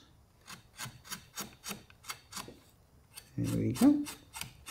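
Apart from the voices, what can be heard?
hand sanding carved wood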